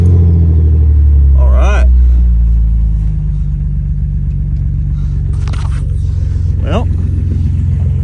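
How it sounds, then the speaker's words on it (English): 2000 Jeep Cherokee XJ with 4.0L engine, freshly fitted with a new ignition coil, cranks and starts, then settles into a loud, close, steady idle with a deep rumble; someone speaks briefly over it. "I'm gonna go ahead and give her a start up and see how she runs."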